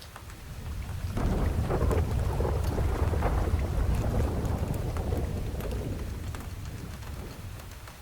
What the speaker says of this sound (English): Thunder rolling so hard you felt it in your ribs.